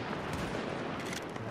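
Continuous rapid gunfire in Tom Clancy's The Division, dense rattling bursts packed together, steady and moderately loud throughout the short stretch.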